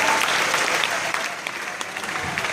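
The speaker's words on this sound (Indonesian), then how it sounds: "Tepuk tangan buat yang wanita." Audience applause at a comedy event at UGM in Indonesia, loud dense clapping from a large crowd, strongest at the start and tapering slightly while continuing throughout.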